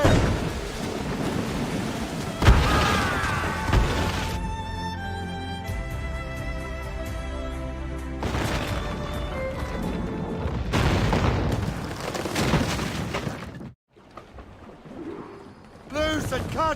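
Ship cannons fire during a naval battle in the video game Assassin's Creed Rogue, sending heavy booming blasts and rumbling roars over a dense, loud battle din, with a brief silent gap near the end.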